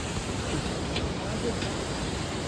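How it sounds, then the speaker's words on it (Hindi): A waterfall on the Kedarnath trek in the Himalayas sends out a steady, unbroken roar of rushing water, heard from a short distance with no pauses. "झरना आपको दिख रहा होगा पीछे बैठता हुआ"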